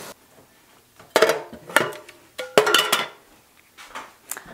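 Tuna can being opened with a Star Frit can opener, a close series of sharp metallic clicks and clanks in bursts, with short pauses between turns and no talking.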